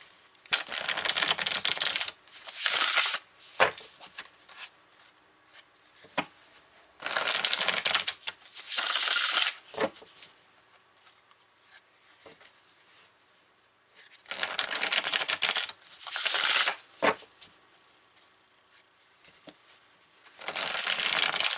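A deck of tarot cards is shuffled by hand in several bursts of crisp riffling and flicking, separated by short quiet pauses, loud and close with no voices.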